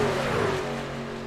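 Racing trucks in a sim racing game at Daytona International Speedway, a loud steady engine drone with a slight pitch drop as the trucks run toward the pits.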